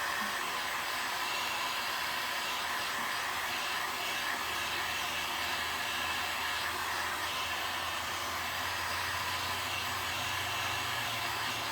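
A hair dryer blows continuously while drying paint on glass, a loud, even rushing whoosh with a low motor hum that deepens slightly partway through.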